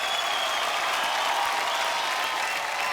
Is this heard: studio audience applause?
yes